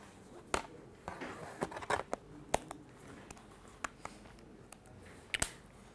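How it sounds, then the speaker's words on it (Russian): A textured plastic XtremeMac Micro Folio case being fitted onto an iPad mini gives several sharp, quiet clicks and snaps spread across the stretch, with soft handling noise between them. "Характерный щелчок говорит нам о том, что устройство установлено надежно"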